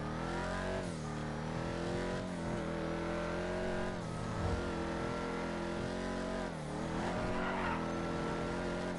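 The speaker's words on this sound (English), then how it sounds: "This is a Ford Mustang. It's supposed to be a Ford Mustang, but it's underpowered still." A Ford Mustang engine in a Rockstar video game, underpowered, roars continuously under load with repeated rising revs as it accelerates and shifts, plus brief tire squeal, loud and close throughout.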